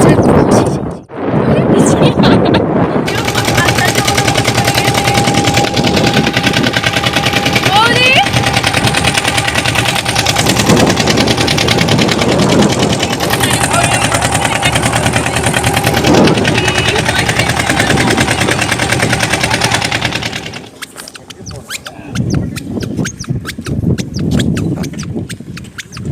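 A small motor dinghy's engine drones steadily and loudly on the water off Mousuni Island, cutting out near the end, with people talking over it.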